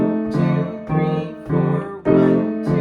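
A piano plays a bluesy rhythmic pattern of repeated chords with a rolling low bass figure, steady and clear, with no talking.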